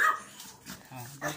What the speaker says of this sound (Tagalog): Ang cute ng mga aso.